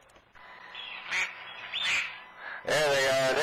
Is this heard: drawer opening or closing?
no